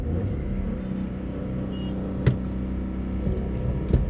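A 2020 Volkswagen Vento 1.0 TSI engine drones steadily from inside the cabin, a low, even hum with a couple of brief sharp clicks near the end.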